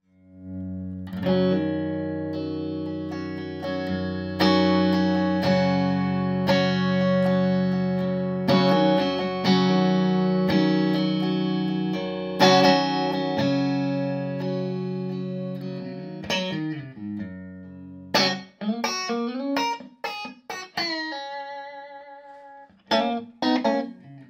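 A clean electric guitar tone from a Hot Rod reissue amp through a Mojotone American Style 2x12 Lite cabinet loaded with Jensen C12Q speakers: sustained ringing chords and melodic notes, then short choppy strums and picked phrases, played alone.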